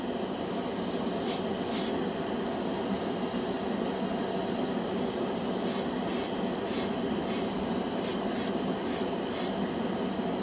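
An airbrush sprays Vallejo Game Air paint onto a bare, unprimed plastic spoon in back-and-forth passes. A steady close hiss is broken by a series of brief, brighter spray bursts.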